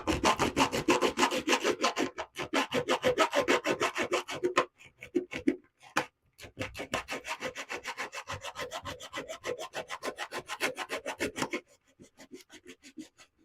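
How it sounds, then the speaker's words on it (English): A fine-toothed razor saw cutting through the metal rails of model railway track, steady rapid back-and-forth rasping strokes in bursts with short pauses, close and fairly quiet, no voices. "a razor saw that'll cut through metal"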